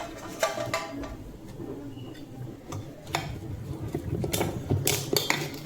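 A spoon clinks and scrapes against a bowl while beetroot idli batter is mixed with ginger and salt. Irregular close taps and rattles come through a low background hum.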